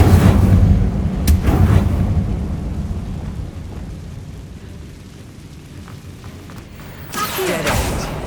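A heavy, rumbling fire-spell blast from the Incendio spell in Hogwarts Legacy roars at the start and slowly decays into a low boom, with a second burst of crackling noise near the end.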